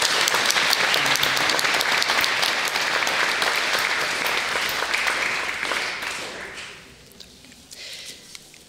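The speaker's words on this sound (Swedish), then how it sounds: "Så, en applåd för den församlade." Loud, sustained audience applause at a Finnish-Swedish award ceremony, a spring prize-giving celebration, dense clapping that fills the room for about six seconds before thinning out into a few scattered claps.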